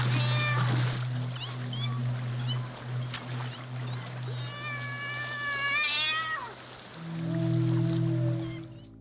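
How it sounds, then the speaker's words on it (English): Cute kitten meows from the arachnophobia mode of the video game Satisfactory, several rising high-pitched mews over a steady low hum of game ambience, with a softer cluster midway and a final faint mew. "Cute, fluffy kittens."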